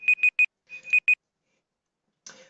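Many program timers beep at once, a cluster of sharp electronic tones in quick uneven bursts that stop abruptly, then a brief rustle after a pause.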